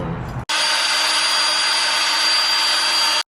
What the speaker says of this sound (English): Drill it, baby. Drill the head off,